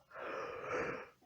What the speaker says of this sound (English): I got a yawn, sorry.